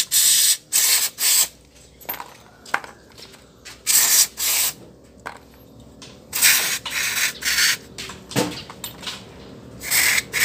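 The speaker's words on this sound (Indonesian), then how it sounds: "setelah kita semprot dengan karbu clean seperti itu" Carburetor cleaner is sprayed onto a motorcycle carburetor in repeated sharp, hissing bursts of varied length, loud and close, separated by brief pauses with small handling clicks.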